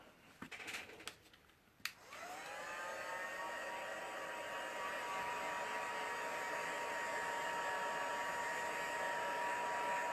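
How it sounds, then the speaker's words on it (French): A heat gun blows over wet watercolour-pigment paper leaves, starting after a couple of seconds of small clicks and handling noises and then holding a loud, steady whooshing roar with a faint whine until the end. "Je vais donner un petit coup de pistolet."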